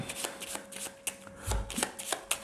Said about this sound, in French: Donc chaque spectateur est amené à mélanger les cartes.